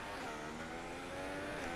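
Formula race car engine at full throttle on the Suzuka circuit in a racing game, a steady loud droning roar held throughout with no talk.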